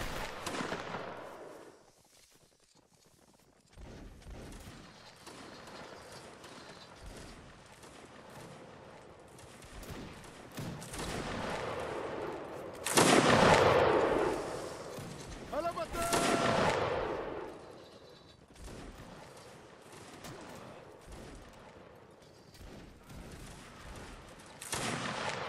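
Musket volleys crackle and boom across a Napoleonic Wars line battle in a video game, bursts of massed gunfire swelling and fading in waves against constant battlefield noise.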